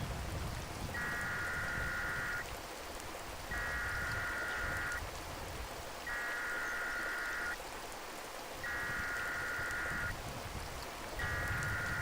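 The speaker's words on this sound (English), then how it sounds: "the rains are expected to keep on coming at least for another day or two" Heavy rain hisses steadily and faintly, with a soft electronic tone pulsing on and off at regular intervals over it.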